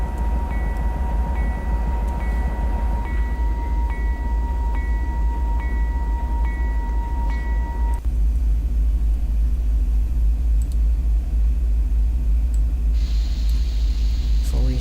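Train rumble from the Open Rails simulator with an empty grain train descending a winter grade: a steady, dense low rumble runs continuously throughout, with a faint high whine that later gives way to a brighter hiss near the end.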